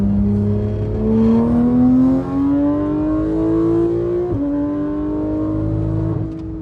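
A Porsche 991 911 GT3 engine with a fault revs roughly and unevenly, its pitch climbing in steps with stuttering, misfiring breaks, loud and close throughout.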